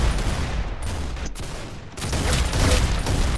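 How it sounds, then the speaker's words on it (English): Rapid, dense gunfire from the Roblox shooter Arsenal, a sustained loud volley of overlapping shots that dips briefly in the middle before building again, with no talking. "Max, stop shooting over here!"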